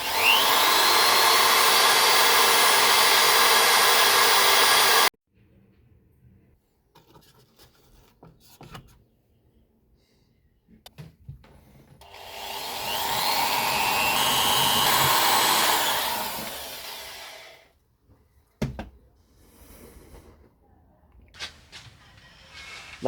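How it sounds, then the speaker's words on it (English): A Dremel rotary tool finishing a candle, with a loud high-pitched whine for about five seconds, then quiet handling noises, then a second sustained grinding whir, followed by scattered taps. "I still decided to get some Dremel tools to finish the rest of the candle"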